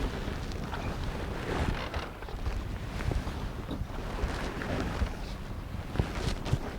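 Wind blows outdoors on a river, a continuous rough rush buffeting the microphone at moderate loudness with no voices.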